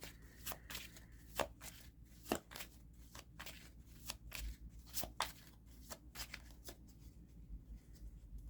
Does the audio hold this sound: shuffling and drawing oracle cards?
yes